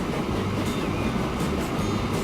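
A train rolls past in the railway strategy game Transport Fever, set in the 1888–92 era, giving a steady, continuous rumble and clatter at even loudness throughout, with no talking.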